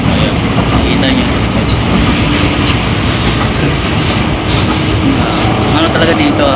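An LRT light rail train in Manila rumbles steadily, a loud continuous roar of wheels and carriage noise heard from on board, with no distinct words over it.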